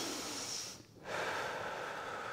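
Forceful, exaggerated breathing from someone holding a splits stretch, loud and close. A long hissing exhale is broken by a short pause, then another breath follows.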